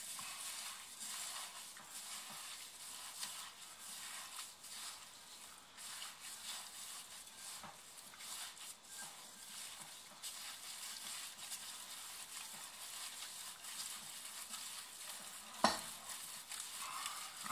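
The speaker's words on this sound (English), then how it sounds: "Then you're going to want to mix it good." Hands or a utensil working meatball mixture with breadcrumbs, cinnamon, salt and black pepper in a bowl, a long stretch of continuous soft squelching and scraping, close but faint, with one sharp clack near the end.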